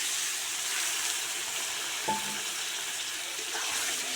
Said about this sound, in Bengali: এই পর্যায়ে একটু জল দিয়ে দিচ্ছি